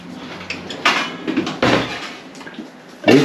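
A lid goes onto a metal dhokla steamer pot in a home kitchen, making several loud, close clanks and scrapes in separate bursts, the last one sharpest. Nobody talks.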